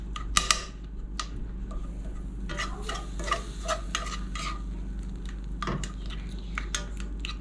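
Blueberries simmer and get mashed in a pan, with soft stirring scrapes, a faint sizzle and occasional clinks of a utensil against the pan over a steady low hum.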